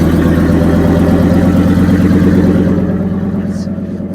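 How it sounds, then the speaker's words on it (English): A Ford Excursion with a V10 engine idles after a cold start, a steady, loud, rumbling idle close to the microphone with a slight drop in level near the end. "So let's start it up for you. Give you a cold start."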